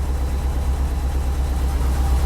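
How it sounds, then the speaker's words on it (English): A Subaru STI engine with about 5,300 miles idles steadily up close, a deep, even rumble with a faint, light ticking from the injectors. "She still sounds healthy. Nothing crazy. Got normal injector tick."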